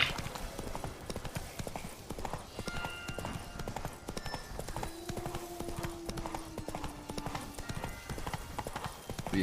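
Horse hooves clip-clop in a video game, a dense, steady run of close hoofbeats continuing throughout, with a faint whinny-like tone briefly sounding midway.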